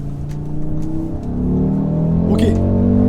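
A 2021 Audi RS Q3 compact SUV accelerates in manual mode onto a motorway, its engine note rising in a loud, close, throaty drone and climbing steadily in pitch after a brief dip.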